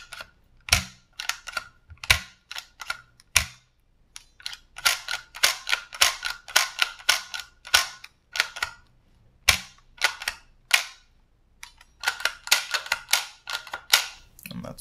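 A CCI Phantom paintball marker fitted with modified bolt and hammer internals, cocked and dry fired without air, giving repeated sharp mechanical clicks and snaps in quick irregular bursts, close and alone.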